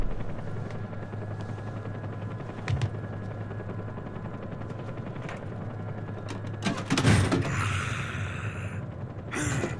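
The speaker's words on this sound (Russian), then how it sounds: "Это тот самый вертолет, в котором Волгин летит" Helicopter in the video game Metal Gear Solid 3: Snake Eater, a steady rotor drone throughout, with sharp gunfire-like bursts and louder action near the end.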